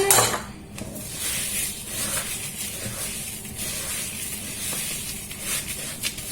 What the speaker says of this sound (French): Je rajoute maintenant mes flocons d'avoine.